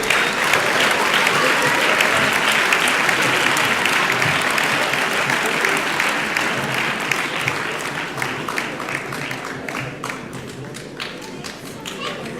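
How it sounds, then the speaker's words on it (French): Sustained applause from an audience saluting trophy winners at a local sports awards ceremony in Soustons, France, steady and loud for about twelve seconds, thinning slightly toward the end with a few distinct claps standing out. "Et vous pouvez les applaudir, bien sûr."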